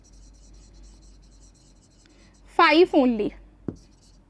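Pen writing on paper during a primary school maths lesson on currency, faint soft scratching strokes, then a person speaks briefly and a single tap follows.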